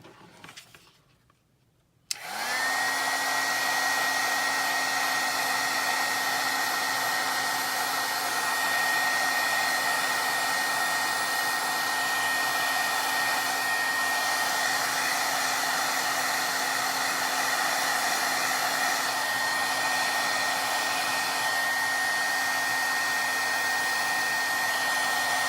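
A hair dryer switches on after a brief quiet moment and blows steadily and loudly at close range, drying distress oxide ink on a handmade card with an unbroken whine.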